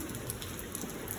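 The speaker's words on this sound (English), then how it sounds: "So we're in the heavy rain" Heavy rain pours steadily during a thunderstorm, a dense continuous hiss with close, constant patter on surfaces and no pauses or voices.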